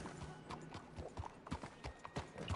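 Horse hooves clip-clop steadily in the video game Red Dead Redemption 2, irregular thudding steps over several seconds at a moderate, slightly distant level with no talk over them.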